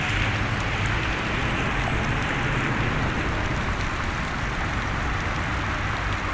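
Heavy rain pours down steadily and loudly, a dense unbroken hiss filling the whole stretch with no pauses and no voices.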